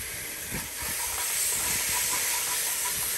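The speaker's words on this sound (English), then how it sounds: "We're gonna add a little bit of garlic" Minced garlic hits cooked-down onions in a pot for Cajun turtle sauce piquante and gives a loud steady hissing sizzle, with a few stirring knocks and no talk.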